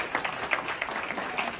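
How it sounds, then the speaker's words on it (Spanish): Steady applause from a church congregation at a wedding vow renewal, a dense patter of many hands clapping together, fairly close and sustained throughout. "Nosotros le damos un fuerte aplauso al Señor"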